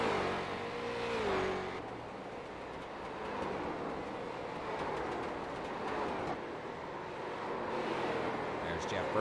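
Race cars running under green flag on an oval track during a live race broadcast, engines droning loudly and continuously with pass-by swells while a commentator talks over them.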